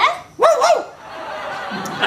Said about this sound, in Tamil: இது நாய் மட்டும் கொஞ்சம் குதிரை கத்துற மாதிரி இருந்துச்சு